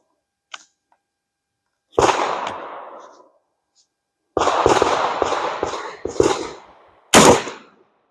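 A pump-action shotgun fires Remington Express 00 buckshot at a target 20 yards away outdoors. There are three loud, sharp blasts a few seconds apart, each with a brief decaying echo, and nobody talks between them.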